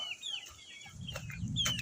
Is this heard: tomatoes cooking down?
no